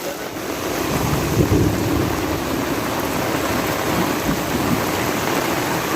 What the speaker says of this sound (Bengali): মারাত্মক লেভেলের বৃষ্টি আরম্ভ হয়েছে